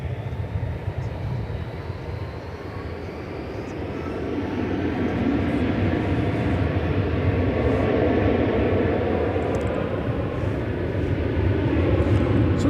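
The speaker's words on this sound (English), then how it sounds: "There goes an American A319 off to somewhere." An American Airlines Airbus A319 takes off at DFW Airport, giving a steady, broad jet roar that swells gradually and stays loud at a moderate distance.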